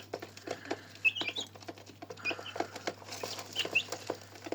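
Young Silkie chickens pecking at feed in a cage, with soft irregular tapping and scratching, rustling patter, and a few faint high peeps scattered throughout, close and quiet.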